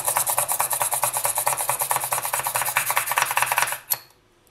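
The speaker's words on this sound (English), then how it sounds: "I'm just going to use this pin drill" A hand pin drill (push drill) bores a hole in a polymer clay earring piece with a rapid, rhythmic rasping scrape that repeats steadily up close, then stops abruptly near the end, leaving near silence.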